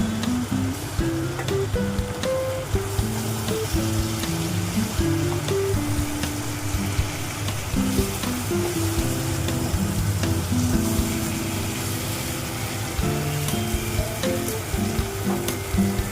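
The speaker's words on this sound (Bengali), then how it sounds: "এবার আমি ভেজে রাখা কাঁটাগুলো দিয়ে দিলাম।" Fried bhetki fish bones sizzle in hot oil in a Bengali kitchen, a steady loud crackle running without pause, with a low hum and scattered tonal sounds underneath.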